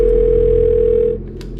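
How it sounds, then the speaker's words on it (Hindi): A home telephone rings in a crime drama re-enactment, giving one loud, sustained electronic tone that cuts off abruptly after about a second, leaving a low hum. "ठीक 15 मिनट के बाद तुषार के घर का फोन बजा।"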